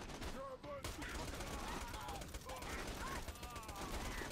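An electric submachine gun firing in the video game Borderlands 2: rapid, dense bursts of gunfire crackle continuously, with electronic whines and tones over it, and a voice now and then.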